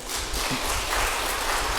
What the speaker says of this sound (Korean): 박수 한번 치고 가시자고요